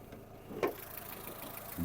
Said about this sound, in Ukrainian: Дуже тихенько працює автомобіль.